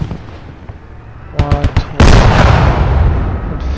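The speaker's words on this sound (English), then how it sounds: "Watch out, I'm about to launch some mortars that way." In the military video game Squad, a mortar launches and fires. A quick cluster of sharp mechanical knocks leads into a loud, heavy boom that rumbles and fades away.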